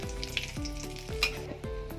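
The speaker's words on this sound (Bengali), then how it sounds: "একটা শুকনো লঙ্কা দিয়ে দেবো" A dried red chilli crackles in hot oil with five-spice seeds, a close bright sizzle broken by several sharp stirring knocks against the pan.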